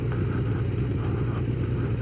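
An XPS motorcycle climbing over Hardknott Pass, its engine a steady low drone filling the whole short stretch at an even level.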